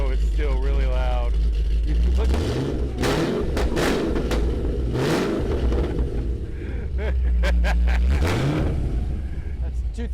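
A 2013 Hennessey Camaro ZL1 with the HPE700 engine idles loudly and roughly, its deep rumble swelling with occasional revs and pops while people talk over it.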